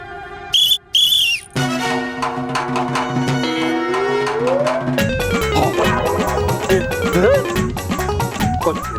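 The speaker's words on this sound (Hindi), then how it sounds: "रॉकी, कोई बात नहीं, लेकिन खुशी की बात यह है कि तूने बापूजी की सीटी निकाली।" A whistle sounds loud and shrill in two short blasts, then gives way to a sustained, busy tonal bed with steady pulses and sliding tones that continues to the end.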